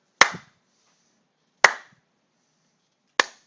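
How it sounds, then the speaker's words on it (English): Three slow hand claps ring out alone in a quiet space, each sharp and close with a short decay, spaced evenly about a second and a half apart. "between the claps are time intervals, the slow clap"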